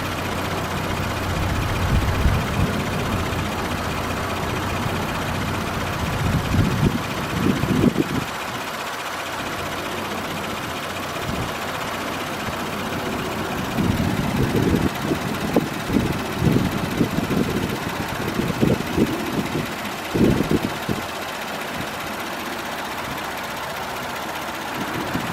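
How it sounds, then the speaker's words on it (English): A 2019 Audi Q8 Quattro engine idles with a continuous low rumble and mechanical whir, with a few louder bursts of clatter or revving partway through. "I'll let you guys get a listen to the engine."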